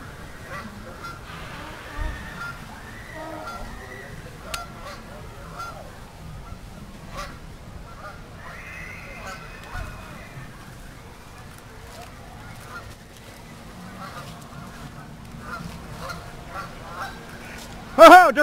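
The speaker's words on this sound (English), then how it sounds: "Oh, a geese smackdown." Geese fighting and honking at the water's edge of an amusement park pond, heard as scattered honks and squawks, mostly faint with a louder burst at the end, under people talking.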